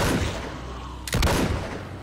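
Gunfire from the zombie video game The Walking Dead: Survival Instinct, a single loud, sharp shot cutting through a noisy background partway through.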